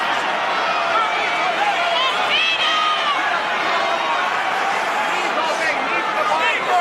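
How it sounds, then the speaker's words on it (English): A mixed martial arts arena crowd roars during a cage fight between Griffin and Ortiz, loud sustained cheering and shouting filling the space throughout. "And the crowd goes nuts."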